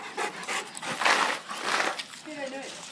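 Dogs panting heavily while rough housing at a dog park, breathy bursts in an uneven rhythm fairly close, with people talking over them and a brief whine near the end.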